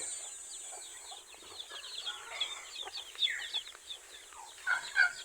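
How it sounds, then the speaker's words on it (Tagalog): Chickens and scattered young chicks on a backyard farm cluck and peep continuously, with bright chirps rising toward the end, moderately close and with no one talking. "Dami nagkalat natin mga sisiw."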